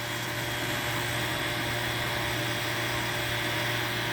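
A vacuum pump on refrigerant recovery work runs with a steady, broad mechanical whir and a constant low hum, close and unchanging throughout, with no talk.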